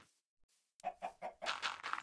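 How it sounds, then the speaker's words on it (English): A chicken in the Minecraft video game clucks in a quick run of four or five close, clear notes after a brief quiet start. "Well, chicken, you can actually roam around here."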